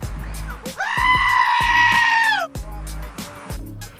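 A human voice imitates a sheep bleating: one long, loud, wavering bleat up close, framed by short vocal bursts before and after.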